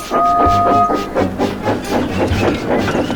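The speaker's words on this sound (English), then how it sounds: "Clouds of steam towered as they snorted up the hill." A steam locomotive chuffs uphill in a Thomas and Friends-style scene, a steady run of rhythmic puffs laced with hissing steam and rail clatter, close and fairly loud, with a faint tonal layer that may be music.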